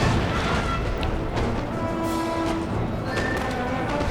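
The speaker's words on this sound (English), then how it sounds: "So my artillery is now focusing on this Dutch flankers unit." Artillery firing in the video game Napoleon Total War during a Battle of Waterloo engagement: dense, continuous rumbling battle noise with heavy thuds and booms blending together, loud throughout, with no talking.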